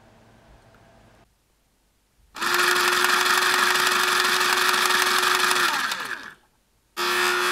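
A Rapidstrike foam dart blaster with its stock motor on a 2S LiPo fires in a loud, fast continuous burst of about four seconds, followed by a short silence and the start of another burst.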